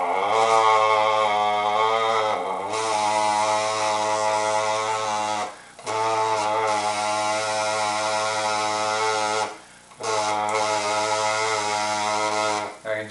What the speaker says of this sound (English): Next, I'm going to hum a vowel sound into it.